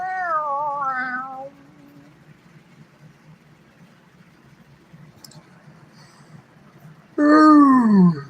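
A cat meows a few times, a drawn-out wavering call at the start and another loud, falling meow at the end, with quiet room noise in between.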